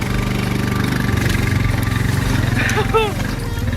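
A Honda Rubicon 520 ATV engine working steadily in first gear, low four-wheel drive, while hauling a load of logs; a loud, close, continuous mechanical drone with a short squeal or creak near the end.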